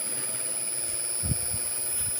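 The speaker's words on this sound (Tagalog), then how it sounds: "and also the compressor is starting" The outdoor unit of a TCL split inverter air conditioner with an EO error runs its fan motor and compressor, giving a faint, steady low hum and whine with a few soft thumps.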